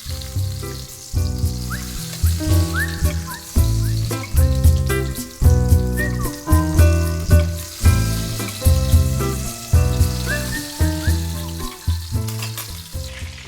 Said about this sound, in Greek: Και θα τα τηγανίσουμε και από τις δύο μεριές.